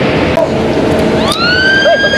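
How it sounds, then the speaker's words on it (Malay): A siren rises sharply into a loud, sustained wail over steady background noise, starting partway through. "Siren bunyi sekejap"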